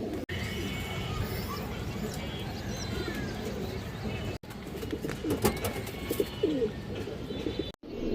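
A pair of old-line Bagha pigeons coo in a loft, soft low calls under steady background noise with occasional chirps from other birds.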